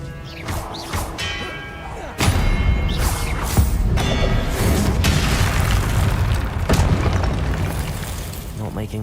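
Confringo spell explosions in the Hogwarts Legacy video game, heavy booming blasts and thuds set amid loud combat noise, with a voice talking over the action.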